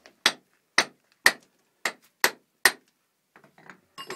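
Six sharp hammer blows ring out at an even pace, close and loud with a metallic edge, at a mine site, followed by lighter scattered taps.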